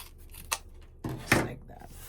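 Scissors snip through a stack of ribbon pieces cut four at a time for a wreath, giving a few sharp, close crisp cuts with quiet gaps between them.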